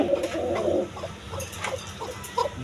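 A female Basiraj pigeon coos in a series of soft, low, throaty calls close by, the first longer and fuller and a few shorter ones following, with other pigeon sounds faint behind.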